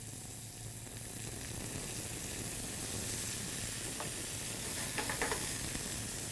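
Onion sautéing in a pan with wine poured in, giving a steady, loud sizzle and hiss that runs throughout, with a few faint clicks and stirring sounds near the end.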